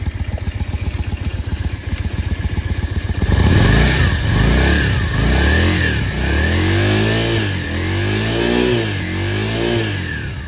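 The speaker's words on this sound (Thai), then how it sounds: "เดี๋ยวลองเบิ้ลหน่อยครับ" A Yamaha Dragstar 400 custom motorcycle with its stock exhaust idles with a steady chugging pulse, then is revved hard several times, loud and close, the engine note rising and falling in repeated swells.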